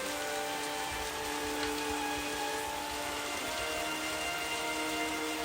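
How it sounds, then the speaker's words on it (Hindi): Steady rain falls in a dense, even hiss at a low level, continuous throughout with a faint tonal hum underneath and no voices. "बारिश की आवाज के बीच"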